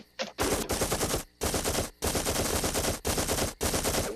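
Bursts of rapid automatic gunfire rattle off in several loud, dense volleys separated by short pauses, close and harsh, fired for fun in an animated comedy scene.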